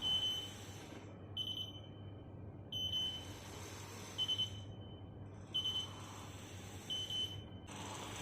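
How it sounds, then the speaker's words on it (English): An electronic buzzer beeps in repeated short bursts, each group separated by brief pauses, over a low steady hum. "the buzzer will beep 2 times"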